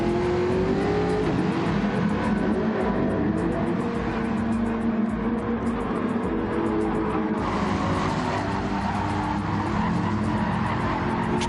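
Gr.4 race cars at Autopolis in Gran Turismo 7, engines droning and revving continuously with tyre squeal and skidding layered through, a dense, loud, unbroken wash of racing noise.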